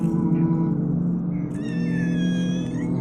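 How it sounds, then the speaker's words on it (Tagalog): Several cats meow in a shrine cemetery, with a few thin, rising mews that stand clear over a steady low rumble. The calls come close together and are fairly near. "Yun na sumunod ng mga pusa."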